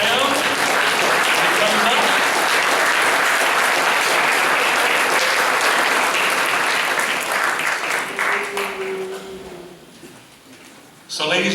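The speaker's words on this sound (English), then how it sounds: "Please join me in a round of applause for him." A holiday concert audience gives a loud, sustained round of applause welcoming the concert director to the podium; it stays steady before thinning and fading near the end.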